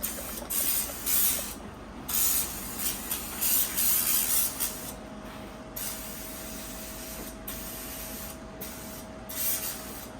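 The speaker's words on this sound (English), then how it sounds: "So with the contact cleaner, just kind of clean everything." Contact cleaner sprayed onto electrical parts of a Toyota MR2 SW20 headlight, a loud close hissing spray in repeated short bursts separated by brief pauses, with a thin tonal hum underneath.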